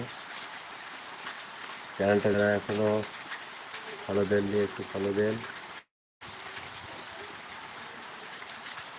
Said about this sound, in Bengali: প্রচুর বৃষ্টি হচ্ছে আমার এখানে